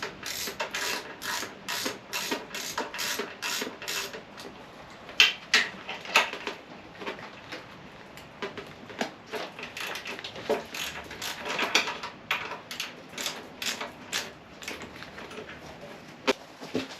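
A ratchet wrench undoing the small bolts holding down a fuel tank, a close, rapid run of clicking bursts that comes in repeated strokes with short pauses between them, and no talk.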